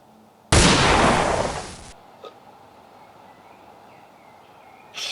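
A single sharp gunshot cracks loudly and close, then decays over about a second into quiet background hiss, with a faint small pop afterward.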